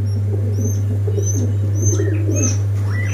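Pigeons cooing close by, with soft chirps and occasional high calls over a steady low hum, in an enclosed space.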